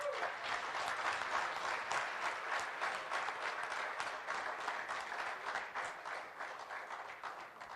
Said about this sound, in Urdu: آپ کی بھرپور تالیوں کی گونج میں اسٹیج پہ تشریف لائیں